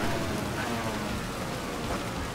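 Steady rain hiss in the Valentino Rossi: The Game motorcycle racing video game, a dense continuous wash of noise at even loudness with no voices.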